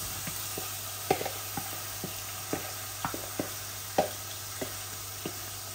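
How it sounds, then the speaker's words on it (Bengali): Chicken pieces go into half-cooked onions frying in a pan, giving a quiet steady sizzle broken by a dozen or so sharp taps and knocks of a spoon against the pan. "এখন আমি চিকেনগুলা ঢেলে দিচ্ছি"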